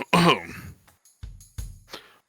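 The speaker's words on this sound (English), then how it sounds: "clearing his throat" A man clears his throat in a few rough, separate bursts, the first strongest and the later ones shorter and quieter, close and with no talking around them.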